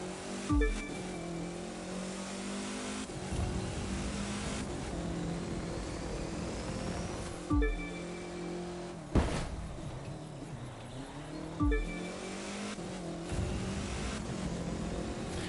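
A rallycross car in the racing game The Crew 2 drones along at speed, its engine pitch climbing and dropping through several gear changes, with occasional thuds and bumps and no talk.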